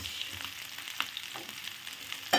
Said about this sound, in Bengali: ক্যাপসিকামটা ভাজার পরে দিয়ে দেবো এর মধ্যে কিউব করে কেটে রাখা পেঁয়াজ